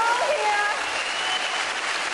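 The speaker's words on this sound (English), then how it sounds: "I think everybody should just give Julia a grand round of applause" Audience applause for Julia at a Miss World event: dense, sustained clapping from a large crowd, steady and fairly loud throughout.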